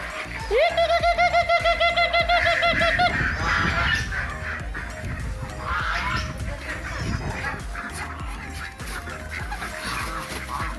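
A burst of rapid, loud honking from ducks up close as they are fed leftover rice, followed by scattered splashing and softer calls.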